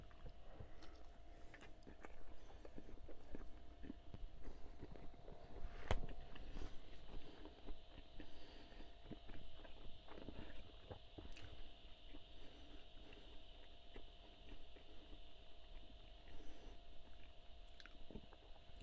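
Someone chews sausage with an elastic casing, faint wet squishing and biting sounds repeating irregularly close up, with a sharper bite partway through.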